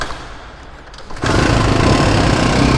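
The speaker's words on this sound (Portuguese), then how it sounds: "Primeira partida do dia. Puxa o afogador" A Honda XLX 250R motorcycle being started with the choke pulled: a quiet stretch, a brief cranking effort, then the engine catches and runs steadily at close range.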